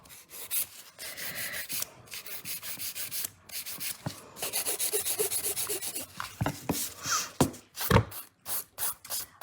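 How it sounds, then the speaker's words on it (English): Gel nails being buffed with a nail buffer, close raspy rubbing strokes in quick back-and-forth bursts with short pauses and taps between them. "Just quickly buffing them before we paint."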